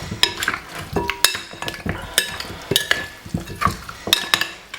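A spoon mixing fresh ingredients into an oxtail marinade, giving a busy run of close metallic clinks and scrapes against a bowl, irregular and fairly loud throughout.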